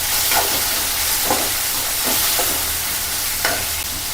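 Onions and finely chopped tomatoes frying in a pan for a chukkakura tomato curry, a steady hiss and sizzle with several short scraping stirs of a spoon, close and continuous with no talking.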